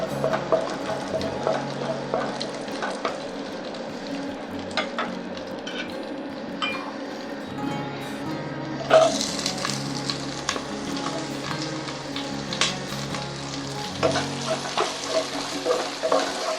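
Onions fry in a pan for a mint coriander rice, a steady close sizzle broken by scraping stirs and a sharper clatter of the utensil partway through, with no talking.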